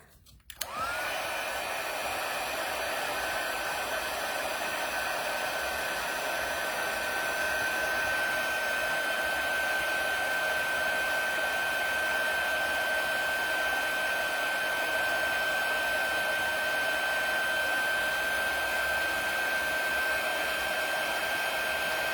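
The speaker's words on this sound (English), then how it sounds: "let's grab our heating tool and go ahead and heat up our U" A heat embossing tool blows hot air steadily at close range for about twenty seconds after a brief start-up click, a constant loud whoosh with a faint high whine running through it, and no talking.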